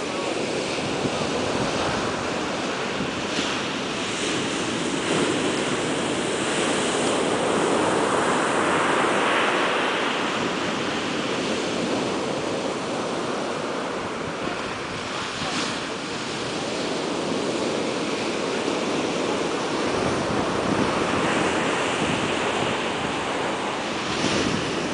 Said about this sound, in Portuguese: Com seu mar revolto.